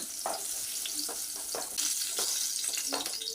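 Pumpkin pieces frying in hot oil in a pan, turned over, a soft continuous sizzle broken by several quick scraping strokes of a spatula, close by with no talk.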